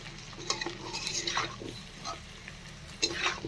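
Meat fries in a pan for curry, a soft sizzle under scraping and stirring of a utensil against the pan, with a few sharper clinks spaced through it.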